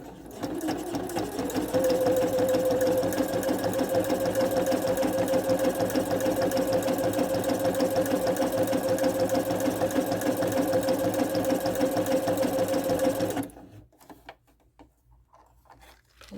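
A sewing machine stitches over dental floss guided by the presser foot, giving a steady fast mechanical whir and patter up close for about thirteen seconds before it stops abruptly.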